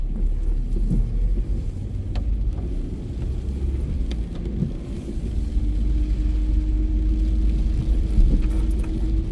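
A car driving slowly along East 19th Street in Paterson, heard from inside as a steady low engine and road rumble with faint rattles and a rising hum near the end.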